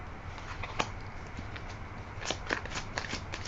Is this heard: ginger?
no